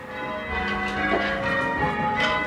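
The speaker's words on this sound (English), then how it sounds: "the bell ringers still perform just as they do today" Church bells rung by bell ringers at the parish church in Mortlake, overlapping metallic peals ringing out loud and sustained in a continuous wash of tolling tones.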